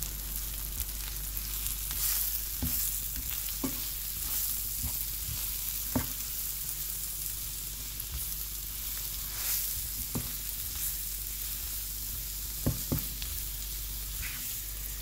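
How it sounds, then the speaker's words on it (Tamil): Chicken tandoori sizzles steadily in a pan while yogurt is stirred in, a constant frying hiss broken by scattered scraping and tapping spoon strokes, close and fairly loud, with no speech. "இதை நான் இப்போ மிக்ஸ் பண்ண போகிறேன்."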